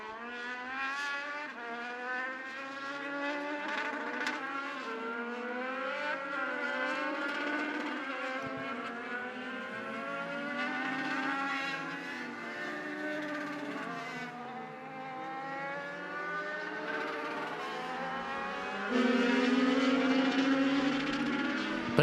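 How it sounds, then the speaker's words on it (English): Race cars of the Young Lions division roll around Charlotte Motor Speedway, several engines droning and whining together in overlapping pitch sweeps, steady and fairly loud at a distance, with no talk. "Second group gonna roll trackside again in this Young Lions division"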